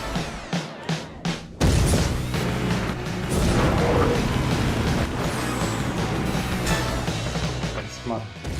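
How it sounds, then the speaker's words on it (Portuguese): A roaring car engine in the arcade racing game Burnout 3 holds a dense, loud revving drone after a few sharp impacts at the start, with a voice talking over it. "Ó, legal o barulho do motor desse carro."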